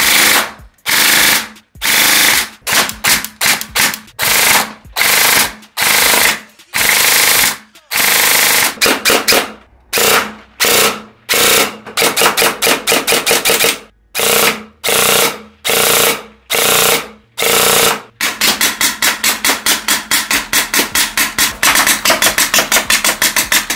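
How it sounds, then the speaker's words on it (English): Gel blasters, including stage 3, full custom and HPA models, firing at an outdoor shooting range in rapid full-auto bursts of sharp cracking shots, loud and close, with short pauses between bursts and a final long sustained stream. "they're all shooting pretty hard, shooting really fast"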